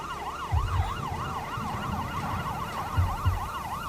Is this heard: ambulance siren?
yes